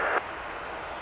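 A Cessna Citation Mustang business jet at Dublin Airport gives a steady, distant engine roar under gloomy grey skies, a continuous broadband hum with no talk.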